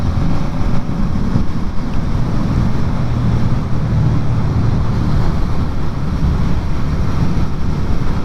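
Strong outdoor wind buffets the microphone in a steady, loud low rumble with constant gusty roar and no pauses throughout.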